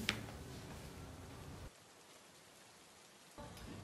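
Steady hiss of rain used as a stage sound effect in a theatre play, a soft even wash that cuts out partway through and then returns, with no voices.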